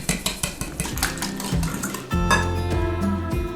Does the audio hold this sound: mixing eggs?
yes